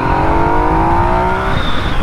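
A 2020 Yamaha MT-09 motorcycle engine revs under way, a loud, close tone climbing and then breaking off as the throttle shifts, with wind and road noise behind it.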